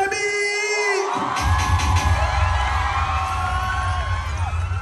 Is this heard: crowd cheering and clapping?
yes